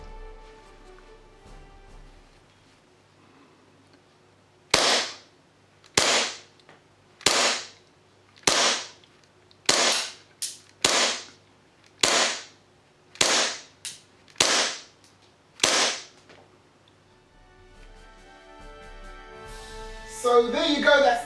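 Ten sharp pops of a green gas airsoft gun fired at a target, evenly spaced about a second apart, loud and close with quiet gaps between and faint handling noise afterward.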